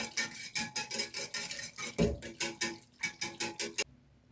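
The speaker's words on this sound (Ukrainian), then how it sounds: "Збиваю трошки вінчиком до однорідності" Rapid rhythmic metallic clinking of a whisk beating sour cream in a bowl, steady strokes for several seconds, then it stops abruptly.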